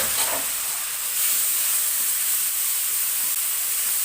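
Spice paste of turmeric, chili powder and cumin frying in a pan with a little water, giving a steady, close, loud hiss and sizzle that holds without a break.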